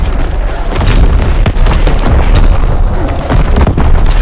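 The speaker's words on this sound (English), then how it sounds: "Firing primary battery. Target position confirmed." Heavy booms from a naval primary battery firing in a WW2 shooter game, a dense, continuous barrage of deep, loud explosions that overlap with almost no gaps.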